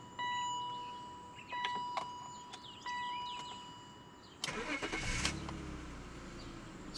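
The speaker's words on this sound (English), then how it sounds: "Still a really smooth engine despite its age." A 2001 BMW 530i engine cranks and catches with a burst, then settles into a low, steady, smooth idle rumble after a few quiet mechanical clicks and tones.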